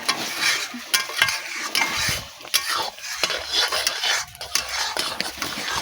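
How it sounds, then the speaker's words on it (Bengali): Mango curry with Kashmiri chilli powder stirred briskly in a pot, a close run of scraping and clinking spoon strokes against metal over a faint sizzle, with no talking. "সবটা ভালো করে মিশিয়ে নিলাম, আস্তে আস্তে রংটা হয়ে যাবে।"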